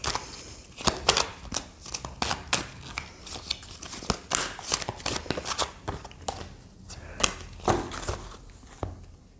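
Tarot cards being shuffled by hand, a quick run of crisp riffles and slaps in irregular bursts, close and fairly quiet with no talk.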